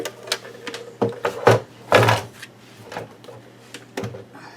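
Cardstock being cut in half with a paper trimmer for a handmade Halloween card, giving a few sharp slicing and clicking strokes at close range over a steady low hum, with no talking.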